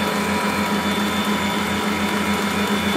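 Electric mixer running steadily as butter is blended into vanilla cake batter, a loud continuous whirring drone with no pauses and no voices.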